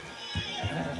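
A single short horse whinny in a video game, from a stallion, rises close by with a breathy nasal quality and a faint thud of hooves underneath.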